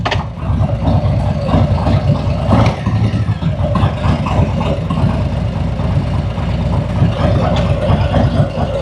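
A Harley motorcycle engine idles steadily just after being clicked into first gear, a loud continuous low rumble with an even throb throughout and no talking.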